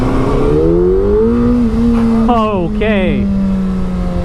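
A 2016 Hayabusa 1340cc motorcycle engine revs up loud and close, pitch climbing steadily through the gear, with a brief spoken word over the start.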